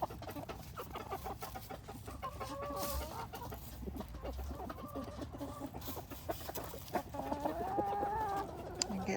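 Barred Rock chickens clucking softly while snacking, scattered low murmuring clucks and brief calls close by against a faint background rustle, no talking.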